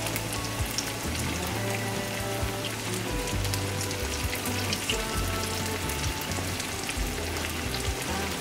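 Steady, dense crackling and sizzling of salmon croquettes frying in hot oil, continuous throughout with no voices.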